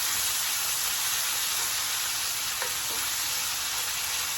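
Bacon sizzles steadily in a hot pan at medium-high heat, a dense, even crackling hiss that fills the whole stretch with no voices over it.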